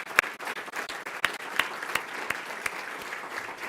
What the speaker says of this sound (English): please join me in a really robust round of applause and a big thank you